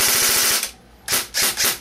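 An airsoft rifle (SVs STWS TMM14 SOCOM) fires on full auto, short loud bursts of rapid clattering shots, with a pause in the middle and nothing else heard.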